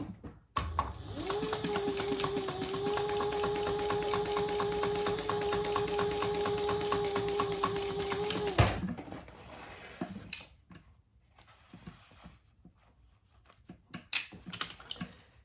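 A sewing machine runs a steady 1/8-inch top stitch along a bag gusset seam, one continuous close whirring run of several seconds, followed by quieter handling noises.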